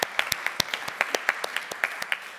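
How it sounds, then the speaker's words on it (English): At the Sheffield DocFest 2021 awards ceremony, an audience applauds in thin, scattered claps that land in a quick, uneven rhythm at moderate loudness. "let's give a clap for Betsy"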